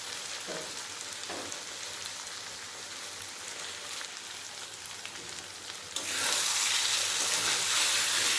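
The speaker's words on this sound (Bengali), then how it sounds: "ভালোভাবে কষিয়ে নিয়েছি" Dhaba-style chicken curry fries in the oil it has released, a dense crackling sizzle like light rain that swells noticeably louder for the final couple of seconds, without talk.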